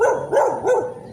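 A dog barks three times at moderate distance, each bark rising and falling with a brief gap between, at a residential doorstep during a delivery drop-off.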